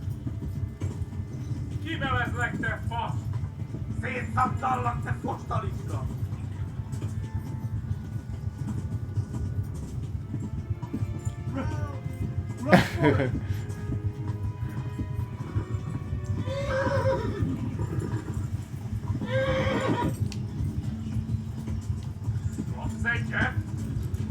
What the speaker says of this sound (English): This horse is Conciliation Cross.